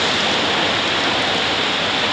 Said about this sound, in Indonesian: Ini hujan sudah deras, sudah lebat.